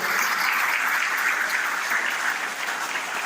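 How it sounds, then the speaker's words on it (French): Strong, continuous applause from a crowd at a speech in Guadeloupe, evenly sustained and fairly close with no talking over it. "je vous demande, s'il vous plaît, d'applaudir fortement"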